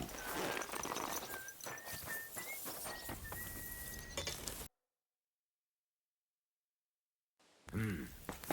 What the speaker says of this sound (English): Easy, good horse. Whoa, whoa.